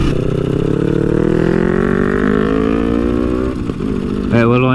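A KTM 500 EXC-F motorcycle engine revs up through a gear, its pitch climbing steadily, then drops briefly during a shift and picks up again, loud and close.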